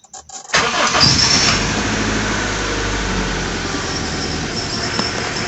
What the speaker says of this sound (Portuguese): Vamos ligar o carro.